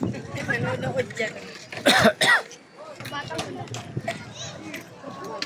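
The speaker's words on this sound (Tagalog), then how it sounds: "Inuubo ako." A person coughs twice in quick, harsh bursts close to the microphone, amid chatter and voices in a busy outdoor spot.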